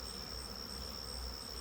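Honeybees buzz faintly but continuously while cleaning out honey supers on a hive after extracting, a steady distant hum with a thin high whine.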